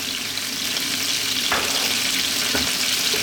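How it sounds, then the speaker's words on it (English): Onion sizzling steadily in a hot pan alongside garlic and crisp rosemary, a continuous close frying hiss with a couple of faint clicks from the pan. "Just going to throw a little bit of onion into that."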